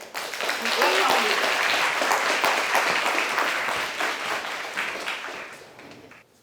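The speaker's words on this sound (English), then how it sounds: "Now let's have a big applause to welcome Ambassador Bowman to give us a lecture." Audience applause welcoming Ambassador Bowman to a lecture on Saint Vincent and the Grenadines' UN Security Council seat, a dense, steady wash of many hands clapping that holds loud for several seconds, then thins and fades out.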